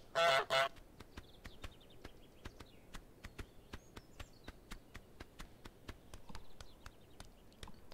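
A goose in the Untitled Goose Game gives two loud honks at the start, followed by a steady patter of quick, soft footsteps over faint background ambience.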